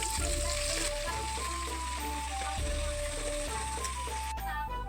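Kwek-kwek, battered quail eggs, frying in hot oil, giving a steady close sizzle throughout with a melodic tune playing over it.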